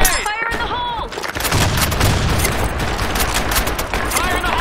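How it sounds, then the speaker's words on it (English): A grenade explodes in a video game: a heavy, loud blast bursts out after a second and rumbles on with crackling gunfire-like noise, with game sounds at the start and end. "Grenade! Fire in the"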